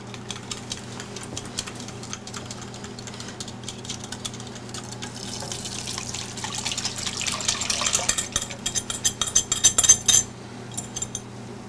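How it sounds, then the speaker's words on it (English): A whisk clinks and swishes against a bowl as soy milk and flour are beaten together, starting quiet and growing into faster, louder rhythmic tapping and sloshing close by. "we're going to put in 3 heaping tablespoons of flour and whisk these together"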